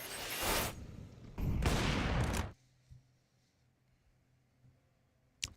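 Counter-Strike gunfire, a couple of heavy, loud burst-like blasts in the first half followed by near silence with a faint distant thump and a final sharp crack at the very end.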